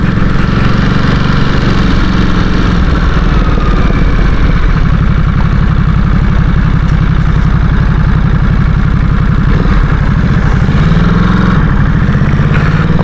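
A Ducati Supersport S motorcycle engine idles close by, a loud, steady low rumble with an even pulsing beat that holds throughout without change.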